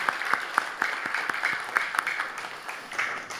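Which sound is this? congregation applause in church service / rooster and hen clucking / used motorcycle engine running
congregation applause in church service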